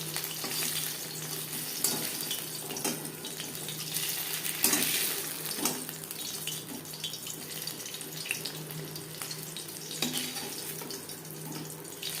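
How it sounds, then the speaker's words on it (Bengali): Live shing fish frying lightly in oil in a pan, a dense continuous sizzle and crackle with a watery hiss, close and steady throughout, no voices. "জ্যান্ত মাছ বলে আমি খুবই হালকা করে ভেজে নিলাম"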